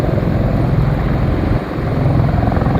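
A police helicopter hovers overhead in a steady, loud, continuous rotor and engine drone with a rapid beating pulse. The sound carries on alone, without any voices.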